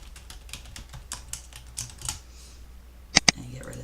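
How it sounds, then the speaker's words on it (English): Typing on a computer keyboard: a quick run of light, close key taps, followed by two sharp louder clicks near the end. "I'm just going to type multiply"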